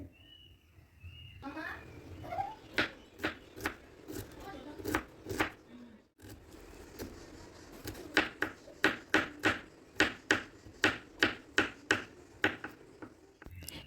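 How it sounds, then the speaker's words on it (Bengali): A large onion is finely chopped with a knife on a board, producing a steady run of crisp close knocks, slow at first and then faster and evenly paced, with a person talking over much of it. "পেঁয়াজটাকে একেবারে কুচি কুচি করে কেটে নেব"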